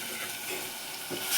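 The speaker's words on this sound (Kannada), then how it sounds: "ಚೆನ್ನಾಗಿ ಮಿಕ್ಸ್ ಮಾಡಬೇಕು." Tomato sambar mixture is stirred in a pot, a brief steady sizzling hiss with soft scraping and no voices.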